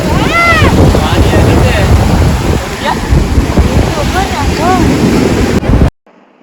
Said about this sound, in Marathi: हवा मस्त सुटले ना